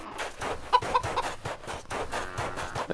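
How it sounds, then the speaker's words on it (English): Chicken clucking in the video game CHKN: a string of short, fairly quiet clucks and scratchy bird calls repeating at an uneven rhythm, with no talking. "Hello, cactus chicken."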